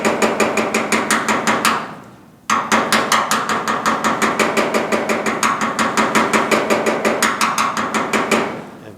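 A plastic PDR tool taps down a high spot on a car fender during a GTO restomod, rapid even tapping in two long runs with a brief pause, close and loud, no talk.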